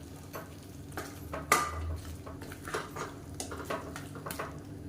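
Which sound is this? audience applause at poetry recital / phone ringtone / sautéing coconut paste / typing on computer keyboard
sautéing coconut paste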